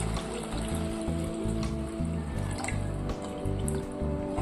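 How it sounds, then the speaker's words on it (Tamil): Water is poured into a pot of fish curry, a continuous splashing trickle close by over a low background hum. "இப்போ இந்த மீன் குழம்புக்கு தேவையான தண்ணி சேர்த்துக்குவோம்"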